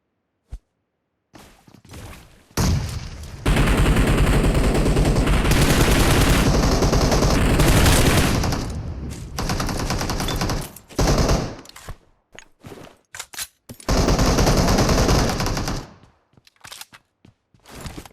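Rapid automatic gunfire in PUBG Mobile, sustained loud bursts and volleys with brief gaps between them, dense and close throughout.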